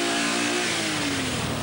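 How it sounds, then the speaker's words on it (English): A 1987 Swedish Rally car's engine with a gear selector problem drones loudly nearby, its pitch sliding steadily downward over under two seconds. "The engine note signifies a gear selector problem."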